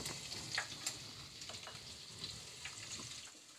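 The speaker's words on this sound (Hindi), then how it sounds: "अब मैं इसमें सबसे पहले ये लहसुन डाल देती हूँ" Crushed garlic sizzles in hot oil in a pan for an aloo methi dish, a steady faint hiss of frying with small crackles and light scraping, heard alone without talk.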